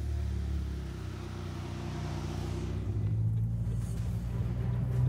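A 620 hp McLaren GT sports car pulls away, its engine a steady low rumble that swells slightly louder as it moves off, with no talk over it.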